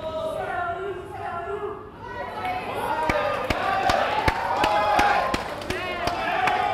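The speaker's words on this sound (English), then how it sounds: "The crowd are fired up for this one." Crowd at a boxing match in a Lion City Fury Championship bout, a steady roar of cheering and chatter with sharp repeated thuds and slaps, under a commentator's voice.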